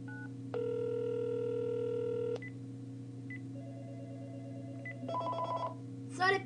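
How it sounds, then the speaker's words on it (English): A prank call opens with a brief tone, then a long steady dial tone, followed by a quick sequence of touch-tone dialing beeps and a short ringing burst, with faint background hum. "Sorry, people, I dialed wrong number."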